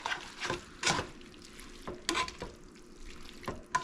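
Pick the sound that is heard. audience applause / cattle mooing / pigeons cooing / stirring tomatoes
stirring tomatoes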